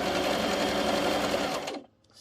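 A sewing machine stitches a scarf in a steady, loud, continuous whir that runs close up and stops abruptly just before the end, with no voices.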